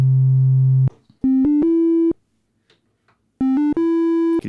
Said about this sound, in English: You can hear that little buzziness at the top. That's a little bit more harmonically rich content.